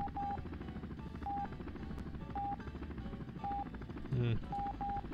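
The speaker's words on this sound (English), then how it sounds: "The heart monitor is just for atmosphere." Short electronic heart monitor beeps in the video game SimCopter repeat at a steady pulse over a loud rumbling background drone, with a brief low whine near the end.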